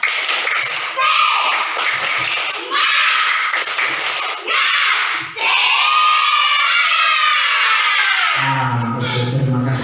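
Primary school children in a classroom perform a rhythmic spirit clap and then break into loud shouting and cheering, with claps and thumps mixed into the crowd noise and a brief quieter tail at the end.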